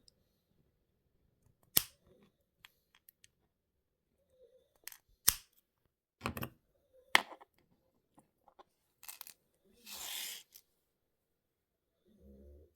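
A cutting tool snips the ends of jewellery wire while wrapping a stone pendant, giving a few sharp, isolated clicks spread across a quiet tabletop, with soft handling noises between them and no talk.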